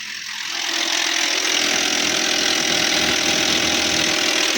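A car engine idles steadily with a rough, knocking internal noise, loud and close, a continuous mechanical drone starting up then holding even throughout.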